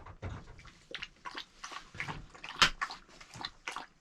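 Wet lapping and slurping as a large-breed dog drinks meat-flavoured water, with irregular splashy laps close by and no talking.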